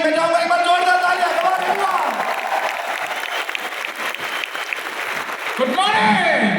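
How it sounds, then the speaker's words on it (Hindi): A crowd claps steadily and loudly throughout, with an amplified voice speaking over the applause at the start and again near the end. "मैं चाहूंगा एक बार जोरदार तालियां।"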